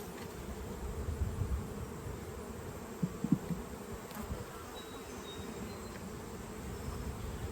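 Honeybees from a hive found inside a historic 200-year-old home drone with a steady, low buzzing hum that runs throughout, with a few slightly louder bursts near the middle and no speech.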